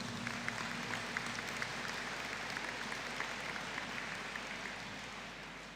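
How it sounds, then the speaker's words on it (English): A graduation ceremony audience gives a collective round of applause for dental practice management graduates, heard as a faint, steady wash of distant clapping with a low hum underneath. "Could I ask the graduates of the Bachelor of Science in Dental Practice Management with Oral Health Promotion to stand for a collective round of applause also, please?"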